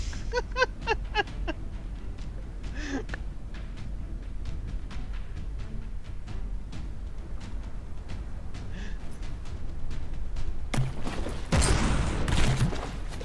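Battleship gunfire in the From The Depths game, a quick volley of sharp shots at the start followed by scattered distant thuds over a low rumble, then a louder burst of blasts near the end.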